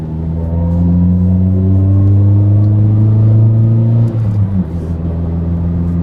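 Renault Clio driving on the road after steering linkage and ball joint replacement, a steady engine drone with strong low harmonics, loud and close, easing slightly near the end with no talk.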